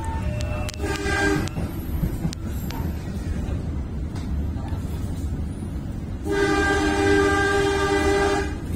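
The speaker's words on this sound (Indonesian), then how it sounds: "semboyan 35 digoyang oleh Bapak masinis" Signal 35 horn sounded by the driver of an Indonesian commuter train on the Bogor to Merak line through a dense residential area: two loud, sustained horn blasts, one at the start and a longer one near the end, over steady rail rumble.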